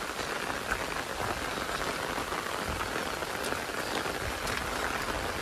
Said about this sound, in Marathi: आमच्याकडे गारफाट पाऊस पडतो.